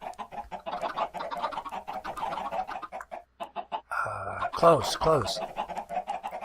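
Chickens in a video game cluck repeatedly in quick bursts, with a brief squawking call near the end, while a person talks over them throughout.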